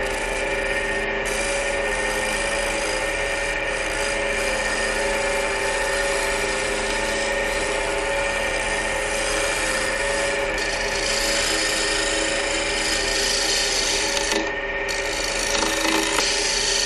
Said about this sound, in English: We'll get that scraped back, and then we will get this sanded.